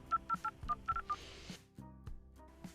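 Telephone keypad tones as a number is dialed: about eight quick beeps in an uneven rhythm, followed by a short burst of noise and a low hum, fairly faint and with no talk.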